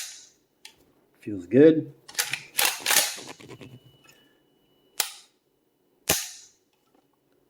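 Trigger clicks from a modified Dissident Arms ALG AK trigger in a 5.56 IWI Galil ACE gen 2 rifle during a function check: sharp, close metallic snaps, a couple of isolated clicks after a brief spoken remark.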